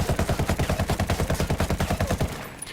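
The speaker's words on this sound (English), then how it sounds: "We're going to fire one magazine with each." An MK-17 rifle in the video game Ghost Recon Wildlands empties a magazine in one rapid, evenly spaced burst of loud, punchy shots lasting about two seconds, then cuts off.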